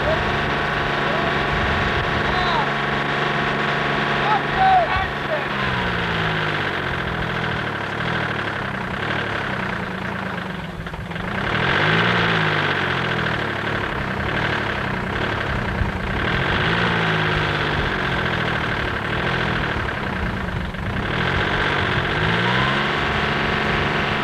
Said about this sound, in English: you can hear that engine really revving up